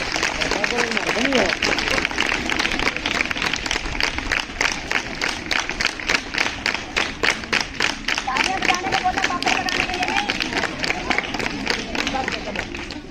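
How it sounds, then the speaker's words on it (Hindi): An audience at a comedy stage play claps together in a steady, rhythmic beat for the whole stretch, loud and close, with crowd noise and voices mixed in. "एक बार उनके लिए जोरदार ताली बजाएं।"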